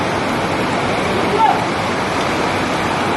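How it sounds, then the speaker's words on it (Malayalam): Floodwater of a swollen river roaring past at Chooralmala, Wayanad, after a landslide: a loud, unbroken broadband rush that stays constant throughout. "അത് പുഴ ഏതാണോ കര ഏതാണോ എന്നറിയില്ല ആ ലെവലിലാണ് ഇപ്പോൾ വെള്ളം ഒഴുകുന്നത്"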